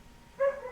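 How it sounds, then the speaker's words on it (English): A single short dog bark, fairly faint and a little distant, with quiet room noise around it. "And you can hear my foster dog barking."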